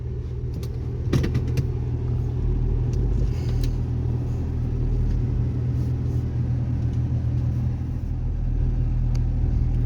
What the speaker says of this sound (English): drive the truck into the garage.